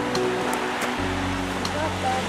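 Ocean waves break on a rocky shore at Acadia National Park, a steady wash of surf with people talking nearby.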